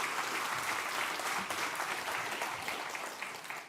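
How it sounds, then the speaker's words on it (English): A conference audience applauds a red team trainer at a security event, dense steady clapping from a full room that holds level for several seconds and fades slightly at the end. "Give a warm hand of applause for Charles-Frédéric."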